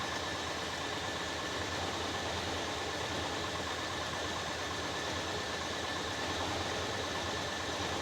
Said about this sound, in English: I don't know anything about this engine. The valve train is perfectly quiet. It sounds great.